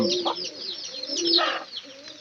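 A chicken clucking softly nearby in a short low burble, faint and alone with no talk.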